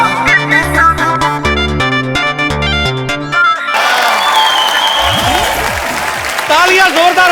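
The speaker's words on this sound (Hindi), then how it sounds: "तालियां जोरदार होनी चाहिए जरा" A television comedy-show studio audience breaks into loud applause and cheering right after a short burst of rhythmic music, with voices talking over the crowd.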